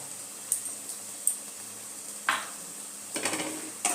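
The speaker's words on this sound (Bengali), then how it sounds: "এর মধ্যে আমি টমেটো কুচিটাও দিয়ে দিলাম।" Chopped tomato going into a pan of egg and potato curry, with a few light clinks of a spoon against the pan and a soft scrape of stirring over a quiet background.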